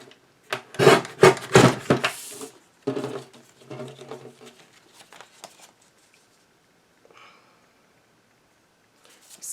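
Heavy cardstock being cut and trimmed, with loud close crisp snips and rasping cuts in the first few seconds, then softer scattered trims and rubbing fading to near quiet.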